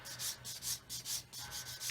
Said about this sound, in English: so just keeping the sanding stick square